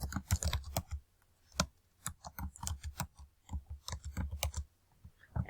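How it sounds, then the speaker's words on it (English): Quick bursts of clicking keys from a computer keyboard, typed in short uneven runs with brief pauses between them, close and fairly quiet. "So I'm just going to go ahead and type in a email."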